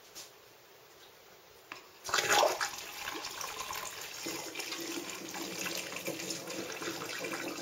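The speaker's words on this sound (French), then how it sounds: "on remplit la bouteille d'eau chaude." Hot water is poured through a funnel into a bottle, starting with a sudden loud gush and then settling into a steady running, gurgling flow that continues to the end.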